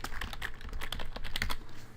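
Rapid keyboard typing on a computer, a steady run of light clicking keystrokes at close range with no talking.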